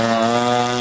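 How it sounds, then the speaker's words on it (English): A lawnmower engine drones steadily and loudly at close range on a street walk in Waikiki, a constant buzzing motor tone with no voices over it. "Oh, fucking lawnmower engine."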